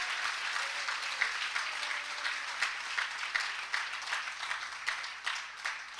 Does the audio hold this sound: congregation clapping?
yes